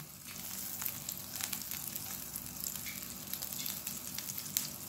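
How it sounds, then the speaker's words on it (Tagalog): Butter melts in a hot frying pan with a soft, steady sizzle and faint crackling pops. The sound is quiet and continuous throughout. "papainitin natin siya at ilagay natin yung ating butter. Hintayin natin mag-melt yung ating butter guys."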